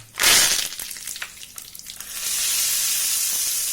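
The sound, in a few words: tempering spices sizzling in hot oil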